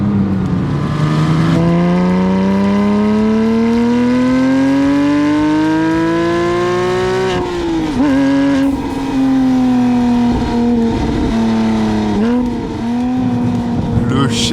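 A Porsche 997 GT3 engine pulls hard while driving, its loud, close howl rising steadily in pitch through a long gear, dipping at a shift near the middle, then climbing again with a brief lift near the end.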